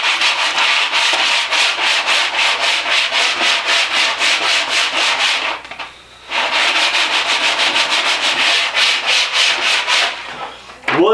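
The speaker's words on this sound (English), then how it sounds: "this is just 100 grain sandpaper" A wooden tool handle is rubbed with 100 grit sandpaper in fast, rhythmic back-and-forth rasping strokes, loud and close, broken by one short pause midway before the strokes resume.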